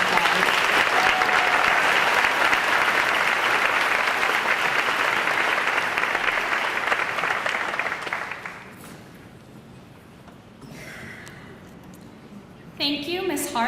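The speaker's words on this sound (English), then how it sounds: "Please give these students a round of applause." At a high school senior awards ceremony, the audience applauds long and loud for award-winning students, the clapping fading after about eight seconds into quiet room noise before a voice speaks near the end.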